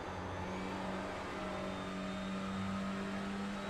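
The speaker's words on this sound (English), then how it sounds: "Needs to stop hitting the rev limiter." A Honda Civic Type R TCR touring car at Thruxton screams along at high revs, its engine note a loud, steady, buzzing drone held flat against the rev limiter throughout, with no voices.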